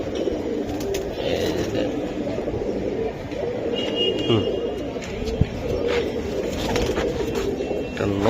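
An aluminium-coloured silver male giribaz pigeon coos in low, rolling bursts close by, with other pigeons and steady chatter from people talking around it.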